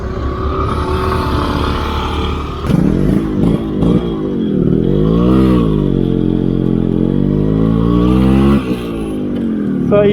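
Yamaha RX 135 two-stroke motorcycle at night, engine idling with a rough burbling note, then blipped and revved in rising and falling sweeps several times before settling back, loud and close throughout.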